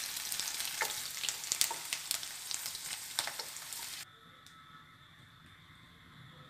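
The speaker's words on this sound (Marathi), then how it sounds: "तर पनीर परतून घेऊया आपण 1-2 मिनिट." Paneer sizzles and fries in a pan with dense crackling and a few sharp spatters, loud and close for about four seconds before cutting to a much quieter, faint sizzle.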